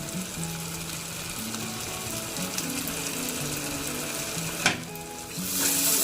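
Masala spices with turmeric, Kashmiri chili powder and salt fry steadily in a pan for paneer butter masala, a continuous close sizzle with stirring scrapes and a sharper scrape near the end.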